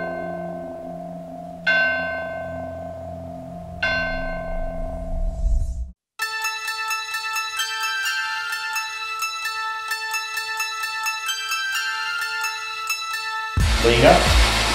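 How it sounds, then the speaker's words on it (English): Deep clocktower bell strikes ring out twice and hum as they fade, then give way to a long sustained metallic tone before a burst of noise. "will we be left hearing the bell toll?"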